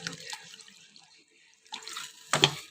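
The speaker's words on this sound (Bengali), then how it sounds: "আমি এর মধ্যে জল দিয়ে দেবো। তোমরা জানো আমি ঠান্ডা জল দিই না, উষ্ণ গরম জল দিয়ে দিলাম।" Warm water is poured into a chicken kofta curry, giving short splashing and running bursts near the start and middle, then a louder closer pour at the end, with no talk.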